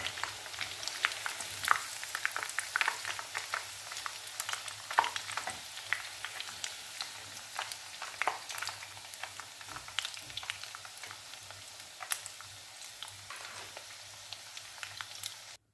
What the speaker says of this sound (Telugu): మొత్తం చికెన్ ఇలా ఫ్రై చేసుకొని పక్కన పెట్టుకోండి ఫ్రెండ్స్.